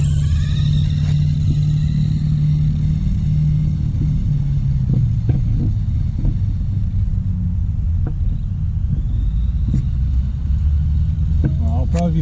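A vintage RadioShack Aero Buggy RC car, rebuilt with modern electronics, drives with a steady low motor rumble and whine, occasional clicks and clatters, and no pause throughout.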